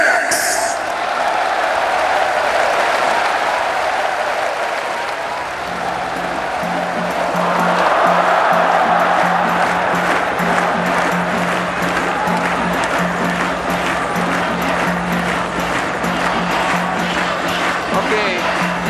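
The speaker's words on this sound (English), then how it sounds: "Okay, now this crowd is getting excited" Excited arena crowd at the Pride FC Shockwave 2002 fight event, a sustained roar of cheering and applause that swells midway, with a steady tone and rhythmic clapping underneath throughout.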